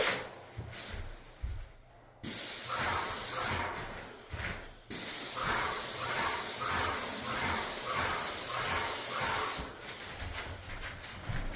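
A paint sprayer hisses while coating trim, first a short burst, then after a brief gap a long sustained spray lasting several seconds before cutting off, close and loud against a quiet room.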